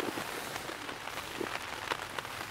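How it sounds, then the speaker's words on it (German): Rain patters steadily on a tarp roof stretched overhead at a riverside canoe-trip camp in the Westerwald, a dense continuous drumming with scattered louder drops, near and alone. "Oben auf dem Tabdach über uns, da prasselt schon wieder der Regen."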